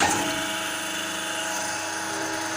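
A lubrication station on a 3D711 grinding machine runs after being switched on, giving a steady mechanical whine with layered tonal harmonics and a slight start at the onset, constant and close, with no voices.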